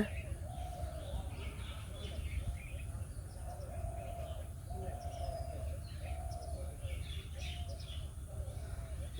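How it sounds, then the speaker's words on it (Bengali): Soft, low cooing repeats in a steady rhythm about once a second, fairly distant, with faint chirps of other birds and a constant outdoor hum. "ডাক শুনতে পাওয়া গেছে অনেক ভাল লাগে ঘুঘুরের ডাকটা"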